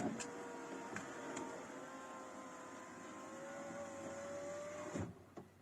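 Power window motor in a Renault Scenic 2 lowers the glass with a faint steady whirring hum lasting about four seconds, ending in a soft clunk as the glass stops, with no talking.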